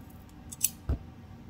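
Scissors snipping a piece off craft material for a DIY lip balm holder: a single faint close cut followed by a soft thud, in a quiet room.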